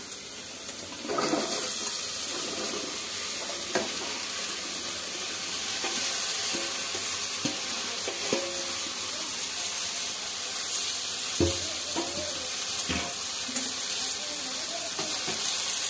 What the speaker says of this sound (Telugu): బెండకాయ ఫ్రై చేస్తున్నాం కాబట్టి మాడిపోతాయి.